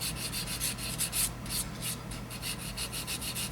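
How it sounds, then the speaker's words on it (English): A model boat part is worked with 400 grit sandpaper in quick, regular back-and-forth strokes, a close, hissing rasp repeating steadily from start to finish with no talking. "take it down a little at a time"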